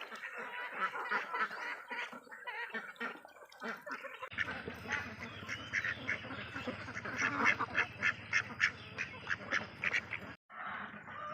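Four-month-old Yi Liang ducks quacking in a flock, a busy stream of nasal calls that grows louder and more rhythmic after a few seconds, close by, with a brief quieter gap near the end.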